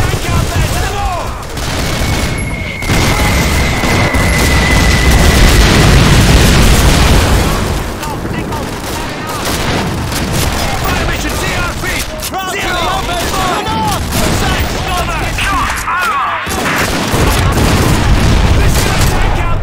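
Cannon fire and explosions in Call of Duty 2 at the Battle of El Alamein, a dense barrage of booms and gunfire bursts over continuous battle din, with shouted voices mixed in.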